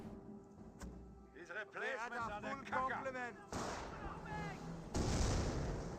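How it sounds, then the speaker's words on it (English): Two sharp, loud sniper rifle shots ring out in the Company of Heroes strategy game, a few seconds apart, with someone commentating between them. "Snipers fired away."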